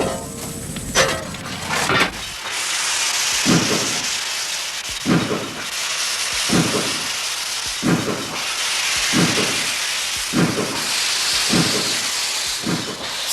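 A steam locomotive hisses steam in a near, loud, continuous rush, with regular deep chuffs repeating about every second and a half beneath it.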